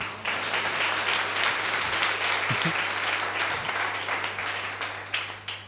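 A church congregation in Mysore applauding, a dense sustained wash of many hands clapping together that fades slightly toward the end.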